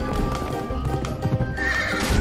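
Horse in the video game Pumpkin Jack, with quick clip-clopping hoofbeats and a loud neighing whinny in a short burst amid game sounds.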